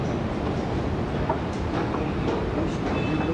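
Chicago elevated train at the Adams/Wabash station rumbles steadily, a dense rolling clatter of wheels on track with faint squeals near the end.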